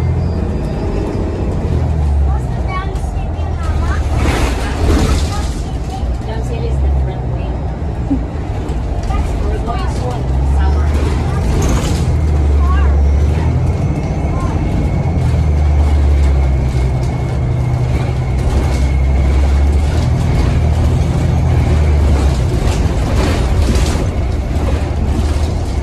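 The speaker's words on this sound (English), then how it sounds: "This is an express bus." Ride aboard an express bus on a bumpy road: a steady, loud rumble of engine and road noise runs throughout with rattles and jolts, and people talk over it.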